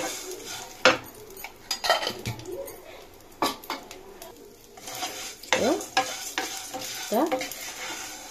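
Vermicelli roasting in ghee in a pan, a soft sizzle under repeated scraping and clinking of a spoon against the metal, irregular strokes close by.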